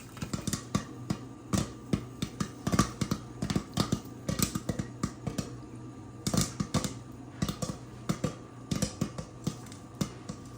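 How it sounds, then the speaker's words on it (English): Popcorn kernels pop in a pot on the stove in rapid, irregular bursts, sharp close cracks scattered over a low steady sizzle, with no talking. "once it started popping, I just usually give it just a little shake"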